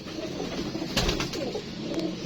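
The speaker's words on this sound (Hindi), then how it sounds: "ये जी फीमेल है टैडी कबूतरी" A female Teddy pigeon coos softly among a large flock of pigeons in a Karachi loft, low murmuring calls running steadily across a constant background of other birds.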